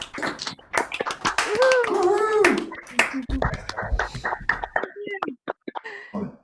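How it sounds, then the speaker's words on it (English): Scattered claps and taps from online attendees unmuting on a video call, uneven and patchy, mixed with overlapping voices, a brief tonal sound and a cough. "ask you all to unmute yourselves and give Kasey and everyone who's spoken today a big round of applause"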